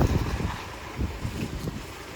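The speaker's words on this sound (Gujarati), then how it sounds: "પવન સારો નીકળ્યો" Strong wind gusting against the microphone outdoors on a rainy day, a low rumbling buffeting that swells and dips in irregular gusts, with no voices.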